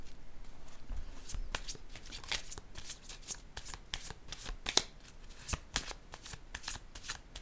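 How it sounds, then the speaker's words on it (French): Playing cards are handled and laid down, giving a close, continuous run of sharp paper snaps and flicks at an irregular, busy rhythm with no talk. "Je vais déposer une autre carte"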